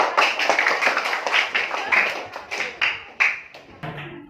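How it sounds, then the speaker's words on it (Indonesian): Clapping from a school class, a group of children striking hands in quick irregular bursts at close range that thin out toward the end, with some voices mixed in. "Oke, tepuk tangan dulu."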